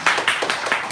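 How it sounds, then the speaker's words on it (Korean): A church congregation claps together during a worship service, producing a quick run of sharp, evenly spaced claps in a brief, close burst. "박수하겠습니다."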